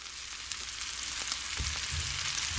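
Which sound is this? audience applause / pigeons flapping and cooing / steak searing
steak searing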